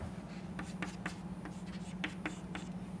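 Chalk or pen writing an equation, a quick series of soft scratchy taps and strokes, faint and close, over a steady low hum.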